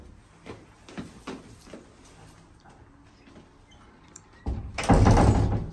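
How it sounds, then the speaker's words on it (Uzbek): A door is pushed shut with a loud sliding thud and rumble near the end, after several softer knocks and shuffling sounds. "Eshikni yop."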